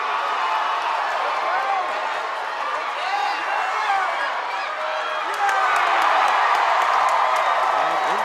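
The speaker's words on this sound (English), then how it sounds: "you see amazing group cheering right there" A crowd cheers, whoops and claps at a teen ninja obstacle competition, a dense, continuous roar of voices and scattered applause that swells louder toward the end.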